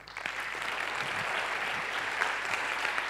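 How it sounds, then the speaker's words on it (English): A lecture audience claps steadily for about three seconds after a speaker's talk on building a website, a dense, even wash of applause with no voices. "Big applause for him"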